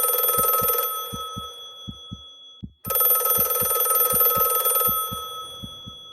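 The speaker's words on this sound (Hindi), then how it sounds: "फोन बार बार बजने लगा।" A phone rings over and over late at night in two long bursts separated by a short pause, while a slow, muffled heartbeat-like thudding pulses steadily underneath.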